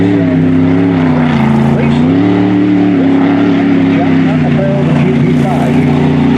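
A hydroplane race boat runs on the course at the Seafair races, its loud engine droning steadily and rising slightly in pitch. An announcer's commentary sits over it.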